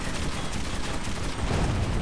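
Gun emplacement firing in the shooter Metro 2033 Redux, a dense sustained burst of rapid gunfire that stays loud and steady for two seconds and swells slightly near the end.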